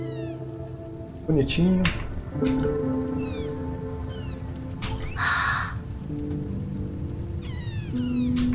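In the video game Ghost Song, an armor character speaks in a cat-like meowing voice, giving several short high mewing calls over steady game music, with a brief voice comment and a burst of noise partway through.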